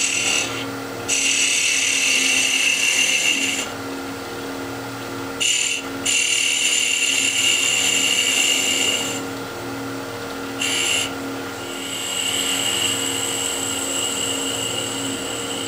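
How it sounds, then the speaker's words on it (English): Wood turning on a lathe with a gouge while shaping a chess piece: a steady, loud scraping cut over the motor's hum, stopping and resuming in several long passes, with no talking. "I'll use a gouge and I'll just drop the rest, since the gouge is a little bit thicker too."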